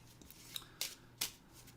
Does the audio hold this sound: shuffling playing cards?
yes